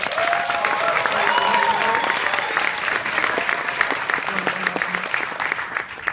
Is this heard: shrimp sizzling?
no